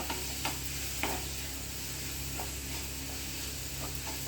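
Green chilies and turmeric tempering in hot oil for kadli pallya, a steady loud sizzle and hiss with a few scraping stirs of a spoon in the pan, no talking.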